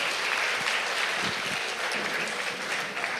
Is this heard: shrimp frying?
no